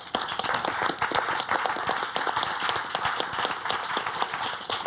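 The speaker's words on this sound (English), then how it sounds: "Another round of applause to our speakers" Audience clapping for the speakers at the Gen-E 2025 educators' session, a close, crisp patter of individual hand claps at a fast uneven rhythm, steady and fairly loud for the whole stretch.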